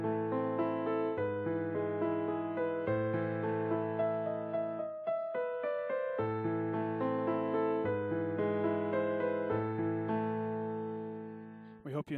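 Für Elise played on piano with both hands, a steady flow of sustained, ringing notes over lower accompanying tones, moderately loud and alone with no talking, fading near the end.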